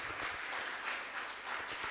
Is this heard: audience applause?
yes